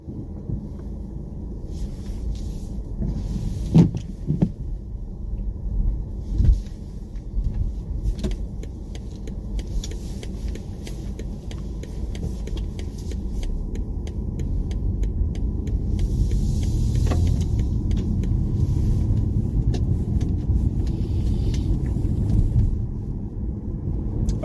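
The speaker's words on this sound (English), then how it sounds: "I'm just going to go out for a drive" A 2020 BMW 135i xDrive drives along with a steady low engine and road rumble from inside the cabin, a few thumps early on and a slightly louder, even drone in the second half, with no talking.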